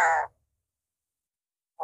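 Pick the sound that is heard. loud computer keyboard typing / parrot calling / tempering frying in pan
parrot calling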